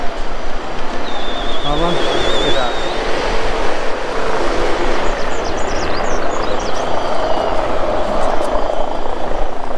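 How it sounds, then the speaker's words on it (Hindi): Helicopter shuttles flying at the busy Kedarnath helipad during the pilgrimage season, a continuous loud rotor and engine roar filling the scene, with voices and bird calls in the background. "हर दो दो मिनट में हेलीकॉप्टर आ रहे हैं।"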